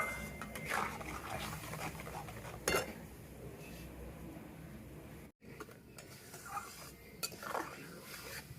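Raw fish being tossed with salt, chilli powder and turmeric in a bowl, with repeated soft scraping and clinking of a utensil against the dish at close range, irregular and moderately quiet.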